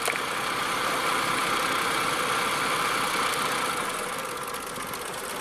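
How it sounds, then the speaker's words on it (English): A fully warmed-up Ford Probe engine idles at base idle speed with its accessories switched off, a steady close mid-pitched hum with slight roughness and vibration, running continuously. "Engines, this is the base idle speed."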